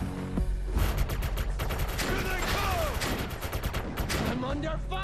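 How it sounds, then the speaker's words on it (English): Enemy raiders in Defiance open up with heavy gunfire: a dense, continuous volley of rapid shots mixed with whizzing and ricochet effects, with a voice partly underneath. "I'm under fire."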